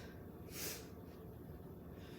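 One short, quiet nasal sniff, a single sniffle against a faint hiss of background noise.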